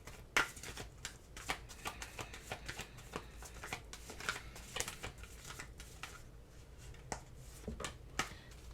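Oracle cards are shuffled by hand, giving soft, repeated riffling and flicking bursts with sharp card snaps at close range, and no one speaks.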